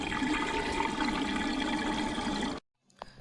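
Water gushes into an LG washing machine that shows an IE water-inlet error, a steady, loud rush lasting a couple of seconds before it stops abruptly, followed by a few faint clicks.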